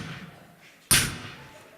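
A single sharp, bright vocal snare hit made with a K sound, a voice imitating a drum, landing once in a fairly quiet room with soft background murmur before it.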